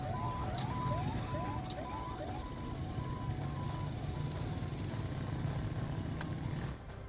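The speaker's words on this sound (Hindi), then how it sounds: "चारों तरफ सायरन की आवाजें" Wailing sirens rise and fall during an attack in Israel, sounding at a distance over a constant low rumble of background noise, with no talking.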